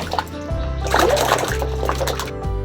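Amla gooseberries tumble and splash into a drum filled with tap water, a busy sloshing, splattering wash of water that swells and settles in waves, close up with no voices.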